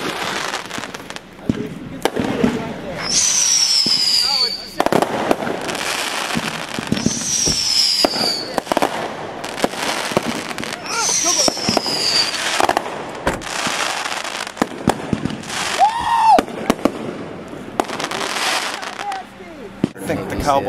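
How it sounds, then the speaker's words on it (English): Greek Easter firecrackers burst repeatedly at close range outside St. Nicholas Cathedral in Tarpon Springs, Florida, sharp cracks and pops scattered over a noisy outdoor scene, with occasional whistling streaks and people talking in the background. "when we make these bombs or our firecrackers for Easter time"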